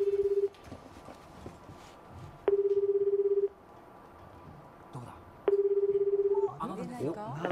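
Telephone ringback tone on a live call-in line, three steady ring bursts about a second each separated by pauses, with faint background chatter and a voice answering near the end.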